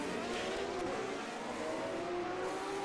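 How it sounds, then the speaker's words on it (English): Formula 1 cars roll onto the Monaco circuit in a racing video game, engines droning and revving together in a continuous, moderately faint wash of sound. "Cars rolling out onto the circuit for their final warm-up session."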